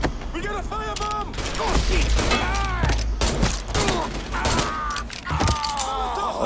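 Rapid gunfire bursts and mechanical clatter from a shootout in the video game Mafia 3, loud and continuous over several seconds, with shouting voices over the shots.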